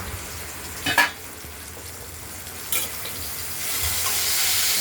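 Potatoes frying in oil in a pan for a katla fish curry, a steady soft sizzle with a couple of brief scraping stirs, growing slightly louder toward the end, close and without talking.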